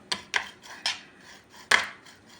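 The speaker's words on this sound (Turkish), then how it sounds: "Şöyle yoğurdumla karıştırıyorum." A spoon stirs grated garlic into yogurt in a bowl, giving four or five sharp, close clinks at an irregular pace with quiet gaps between them.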